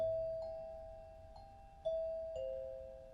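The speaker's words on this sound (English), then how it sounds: "Let me give us our little chime that we do." A little chime of a few bright, bell-like tones rings out to open a medical spa business talk show, each note sustaining and overlapping the next, clean and alone with no talking.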